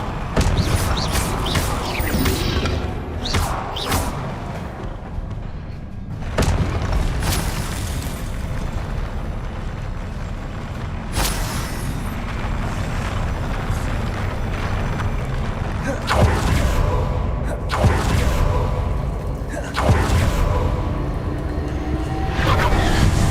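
Confringo spell blasts in Hogwarts Legacy sound as several booming explosions, a few seconds apart, with a bright burst at the start of each and rumbling decay, over continuous game ambience.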